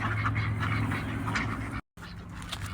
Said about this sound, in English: There's the ducks making their nests.